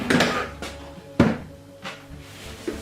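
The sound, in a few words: kitchen cupboard door being taken off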